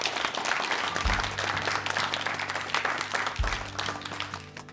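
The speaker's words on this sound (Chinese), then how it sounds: "让我们再次以热烈的掌声对各位领导和各位朋友们的到来表示热" An audience at a charity donation event gives warm applause, a dense and sustained burst of crowd clapping over a low, steady hum of background music.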